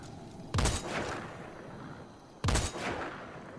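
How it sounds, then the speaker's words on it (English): Two loud, spaced-out gunshots in Metal Gear Solid V, each a sharp close blast with a decaying tail, fired slowly about two seconds apart. "I can dump all 20 rounds in this thing slowly"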